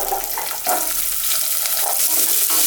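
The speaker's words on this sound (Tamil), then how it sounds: "மீடியம் ஃப்ளேம்லேயே வச்சு நல்லா வதக்கி விடுங்க." Small onions with asafoetida sauté over a medium flame for drumstick sambar, giving a loud, close, steady sizzle with a few soft stirring scrapes on top and no talk.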